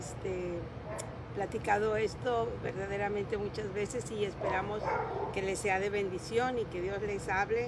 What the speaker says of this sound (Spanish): Si oyes perros ladrando